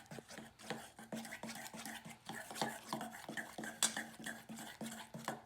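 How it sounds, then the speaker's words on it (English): Purple colouring being stirred into white glue slime gives rhythmic, sticky squelching and clicking strokes of a utensil in a bowl, repeated steadily at close range, fairly quiet. "And we're just gonna keep stirring"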